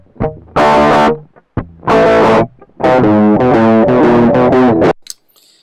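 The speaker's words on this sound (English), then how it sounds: "So this is the clean sound, and I use the distortion." An electric guitar plays through the distortion channel of a NUX Cerberus multi-effects pedal, sounding loud, crunchy strummed chords in three bursts with short gaps, ending in a brief scrape.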